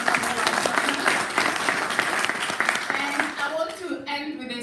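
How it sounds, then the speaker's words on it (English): An audience at an academic conference session gives sustained applause for the speakers, a dense, steady wash of clapping that begins to thin out near the end. "So a big round of applause to all the speakers and all our partners."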